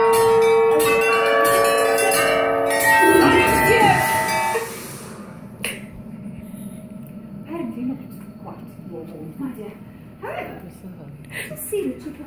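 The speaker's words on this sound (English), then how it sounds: "We're going to flick the wand toward the bell" A bell rings out in a bright, clanging burst for several seconds at a Harry Potter attraction in Universal Studios, then cuts off, leaving crowd noise and scattered voices.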